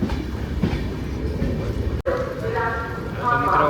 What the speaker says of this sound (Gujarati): મને લાગે ટ્રેને પાછી સ્પીડ પકડી લીધી